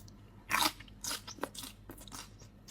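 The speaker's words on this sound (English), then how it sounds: "Why am I munching too loud?" Loud munching, with crunchy bites and chewing close to the mic in irregular bursts, the first bite the loudest, no talk.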